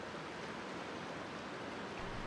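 A low-flowing salmon river rushes turbulently past the remains of an old mill race, a steady broadband wash of churning water with no break, moderately distant and alone.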